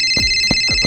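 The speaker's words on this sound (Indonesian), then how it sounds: "Telepon siapa?" A telephone ringing with steady electronic tones, over which three short, soft thumps land at even intervals, close and fairly loud.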